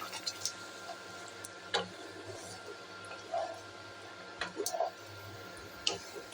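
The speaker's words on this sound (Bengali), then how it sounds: "1 চামচ জিরে গুঁড়ো আর 1 চামচ ধনে গুঁড়ো দিয়ে দিলাম, দিয়ে এটাকে সুন্দর করে মিশিয়ে দেব" A spoon stirs cumin and coriander powder into a potato curry (alur dom) in a pan, giving faint, scattered soft scrapes, clicks and squishy sounds with quiet gaps between them.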